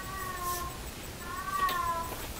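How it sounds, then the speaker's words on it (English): A house cat gives two drawn-out meows, close and moderately loud, separated by a short pause over faint room hiss. "that's my cat meowing"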